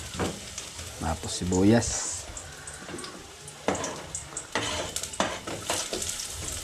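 Ginger and then onion sautéed in a pan, a steady close sizzle with stirring scrapes throughout, and someone speaking briefly over it.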